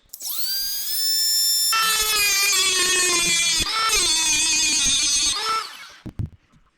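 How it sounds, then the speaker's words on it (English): A small Dremel rotary tool with a cutoff wheel cuts a groove into a bolt head. The motor spins up to a loud, high-pitched whine, bogs down slightly against the metal, then winds down to silence. "what I like to do is I have a little Dremel tool with a cutoff wheel I'll use"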